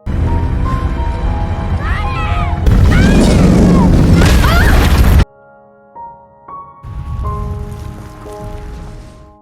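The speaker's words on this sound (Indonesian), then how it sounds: "menariknya menjauh ketika rumah yang terbakar meledak" A burning house goes up in a loud blast, a heavy roar with crackling debris that runs for several seconds and then cuts off, followed by quieter rumbling and distant booms.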